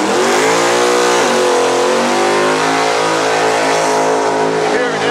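A 1993 Ford Mustang Fox body revs loudly for a burnout, its engine note climbing and dipping in a sustained, close roar that fills the whole stretch without a break.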